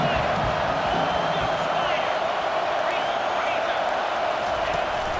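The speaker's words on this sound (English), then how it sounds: "Decibels rising as the crowd gets behind this defense on third down." Stadium crowd in the video game College Football 25 roaring steadily during a third-down defensive stand, a dense, loud, continuous wash of cheering voices with scattered whistles and shouts, heard alone without commentary.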